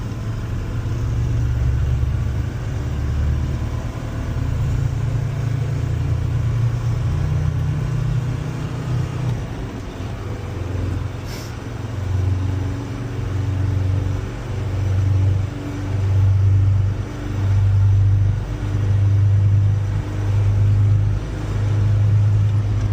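A 1993 Mercedes 290GD diesel truck drives in third gear, its engine a loud, low rumble heard from inside the cab, with the drone rising and falling in rhythmic surges as the throttle changes.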